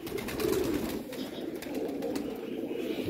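Pakistani pigeons coo in soft, low, repeated throaty calls close by, with light rustling and a faint wing flutter in the background.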